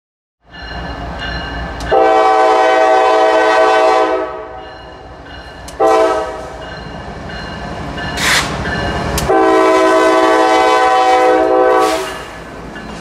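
An intermodal freight train with distributed power departs a rail yard, sounding loud sustained horn blasts in three long bursts over a low rumbling engine drone, with brief clanks between.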